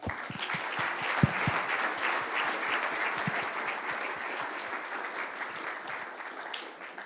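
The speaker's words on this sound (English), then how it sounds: "let's give him a round of applause" Audience applause welcoming a guest speaker at an entrepreneur leadership series evening event, a sustained steady wash of many hands clapping from a crowd, fairly close, with no talking over it.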